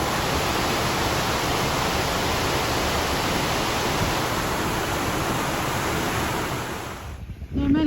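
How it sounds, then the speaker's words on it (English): Bottom of a waterfall on the Isle of Mull, Scotland: a loud, dense, unbroken roar of falling water fills the scene, cutting off abruptly near the end as a brief voice begins. "this is the bottom of the waterfall"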